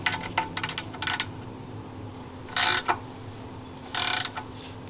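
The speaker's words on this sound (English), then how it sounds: "go ahead and put that drain plug back on. Now you're gonna go snug, you're not gonna go too tight" A ratchet snugs the oil drain plug back into a Nissan 370Z, giving a few quick clicking bursts followed by two longer, louder runs of ratcheting, up close with no talking.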